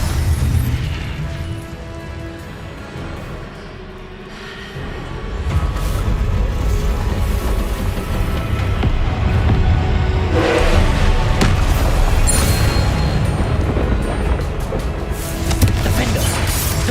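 Confringo fire-blast spells from Hogwarts Legacy boom and crackle over a dense, continuous roar of game combat, with repeated bursts rising out of the low rumble.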